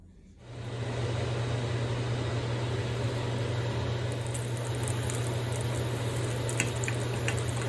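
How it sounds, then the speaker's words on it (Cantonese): Meat pancakes made with flour, egg and starch frying in a pan, a steady close hissing sizzle that rises within the first second and holds evenly over a low hum, with a few faint ticks later. "OK， 我哋嚟煎。"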